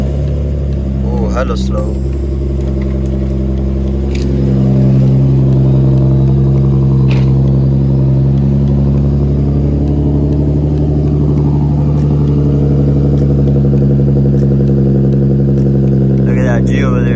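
Idling car engine, a tuned Volkswagen GTI or Mitsubishi Evo, with a deep steady rumble that swells slightly as it settles, heard close from inside the cabin while a person talks briefly over it.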